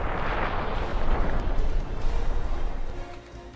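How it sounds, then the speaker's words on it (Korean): Simulated blast of a 15-kiloton North Korean nuclear missile detonating in central Seoul: a dense, loud, continuous roar and rumble that fills the whole clip and eases slightly toward the end. "서울의 중심부인 용산 한복판에 TNT 15킬로톤의 북한 핵미사일 한 발이 폭발한다면"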